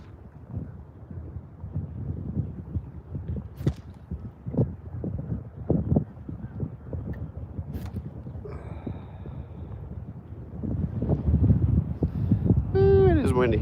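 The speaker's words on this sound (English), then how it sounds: "Ooh, it is windy." Gusty wind buffets the microphone with low rumbling bursts while a person talks; a faint whistle-like tone rises near the end.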